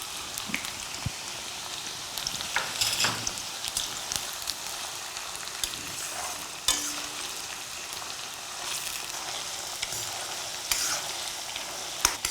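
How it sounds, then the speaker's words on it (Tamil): Onions frying in a pan until brown for a kurma paste: a continuous crackling sizzle with intermittent stirring clatters, close and moderately loud, no talk. "இது எதுக்காக இப்படி நல்லா பொரிய விட்றீங்க?"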